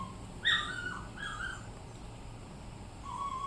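Dog named Choco making a few short high whimpers and yips close by at the start, then a faint whine near the end, over a quiet indoor background.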